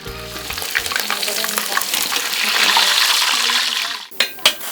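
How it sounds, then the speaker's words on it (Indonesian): Pieces of duck frying in hot oil until golden brown, a loud dense sizzle and crackle that swells and then cuts off, followed by a few sharp clatters. "goreng entog dalam minyak panas sampai kuning kecoklatan."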